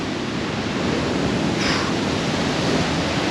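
A roaring waterfall at the end of a small gorge, heard from very close: a loud, dense, unbroken wash of rushing water with no pauses and no voices.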